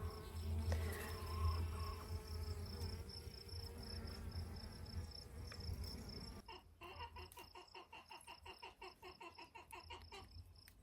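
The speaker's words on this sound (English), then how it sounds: "the bees are pollinating it" Bees buzz around flowering sage in a summer garden, a steady close insect hum through the whole stretch, with a pulsing chirp-like rhythm taking over in the second half.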